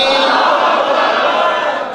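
A large crowd at a religious rally roars a chanted slogan in unison, a loud, sustained mass of voices that fills the whole stretch and tapers slightly at the end.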